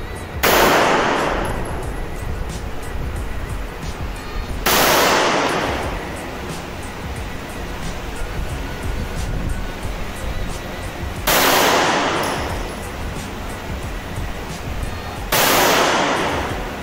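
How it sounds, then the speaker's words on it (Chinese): Four loud, sharp gunshots ring out several seconds apart at a shooting range in Pattaya, Thailand, each a harsh blast with a brief echoing tail over a low background hum. "这个枪声有够大声的"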